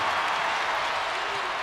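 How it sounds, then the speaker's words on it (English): Fans at Rupp Arena rise in a standing ovation during a Kentucky versus Florida college basketball game, a loud, dense roar of cheering and applause that fills the arena without a break. "The Rupp fans erupt with standing O."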